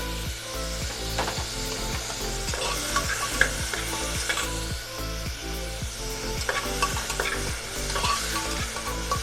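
Diced potatoes sizzle in hot oil in a frying pan while a utensil stirs them. Steady frying hiss runs throughout under regular close knocks and scrapes against the pan, with no voices.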